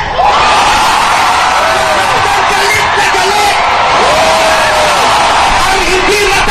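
A large rally crowd at the EDSA Revolution Monument shouts and yells loudly and continuously, voices rising in waves of collective bellowing.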